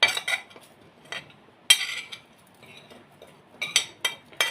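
A metal spoon clinks and taps against a dish in several sharp bursts with quiet gaps, mixing cumin, coriander, paprika, salt and garlic powder into a seasoning for fried fish.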